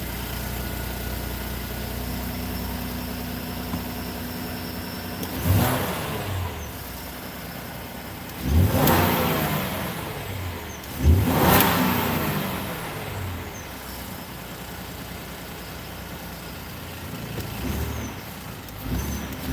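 A 2012 Ford F-250 plow truck with 67K miles idles loudly after startup, a steady rattly drone rising in several revving surges, close and alone with no talk.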